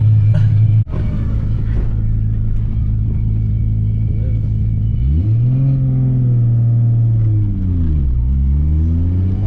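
A 900 HP Nissan R32 Skyline GT-R engine, built by its owner, drones steadily up close, then climbs sharply in pitch around the middle and sweeps up and down through a series of loud revs with a deep rumble underneath.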